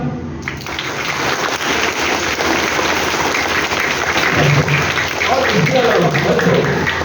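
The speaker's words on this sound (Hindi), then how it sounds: "कृपया सभी गुरुजनों के लिए जोरदार तालियां।" Pupils and staff at a Saraswati higher secondary school in Krishnanagar, Satna, applaud their teachers with sustained, loud crowd clapping that holds steady throughout, mixed with some voices in the room.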